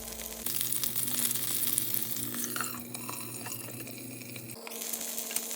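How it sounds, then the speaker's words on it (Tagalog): Eggplant slices frying in hot oil in a pan, a loud, steady crackling sizzle that starts abruptly and runs throughout, with a brief shift in texture near the end, close up and alone. "Tapos, iprito na natin yung talong."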